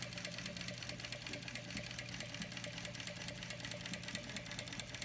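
An industrial sewing machine stitches a quilt guide line, running at a steady fast mechanical chatter throughout, close and continuous with no talk.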